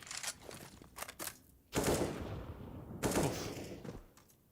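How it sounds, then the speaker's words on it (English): AK rifle bursts in a Counter-Strike match crack out in short volleys, with two heavy close spells of fire between quieter scattered shots and no voices. "Patsy back on the AK."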